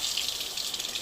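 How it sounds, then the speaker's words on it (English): Hot tap water runs steadily over a syrup bottle whose cap is glued shut, making a brief, close, continuous hissing gush. "I'm going to have to put that under hot water for a second"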